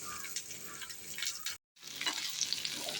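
Garlic and small shallots sautéing in a pan: a soft, continuous frying hiss, quiet overall, broken by a brief silent gap midway.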